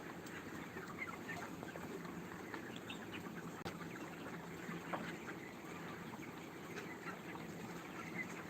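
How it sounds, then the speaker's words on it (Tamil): A dense, continuous chorus of chickens clucking on a poultry farm, many birds at once, roughly 35 days old, steady and close with no talking. "இன்னைக்கு மாமாவோட கோழி பண்ணிக்கு வந்திருக்கோம்"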